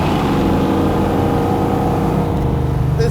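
A 1967 Ford Mustang Pro-Touring fastback with a 501ci V8 and Hurst shifter accelerating hard, a loud, steady, close engine roar with rising tone and no talk over it.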